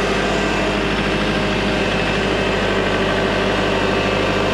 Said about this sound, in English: Using this big old tractor to do this 18-point turn to get turned around really is not ideal.